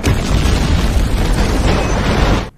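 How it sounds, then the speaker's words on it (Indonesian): A loud, sustained explosion roars through the whole stretch with a dense rumbling blast that cuts off abruptly at the end. "terjadi sebuah ledakan yang menyebabkan sebuah truk terjatuh"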